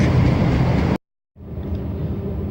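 Train rumble at a station, loud and steady, cuts out abruptly into a short silence, then returns slightly quieter as the train pulls up, with no voices.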